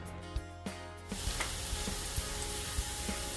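Onions with cardamom, cloves and bay leaf hit hot oil for a mutton biryani, starting with a few clicks and then breaking into a steady, dense sizzle with occasional stirring knocks.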